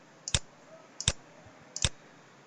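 Computer mouse clicking three times at even intervals of about three-quarters of a second, each a crisp, close double-snap press and release against a quiet background.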